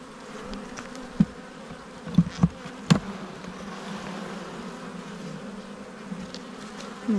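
Honey bees buzzing at an open beehive, a steady low drone of many insects close by with a few louder individual bees passing near.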